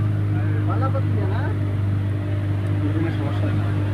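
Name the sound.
boat engine running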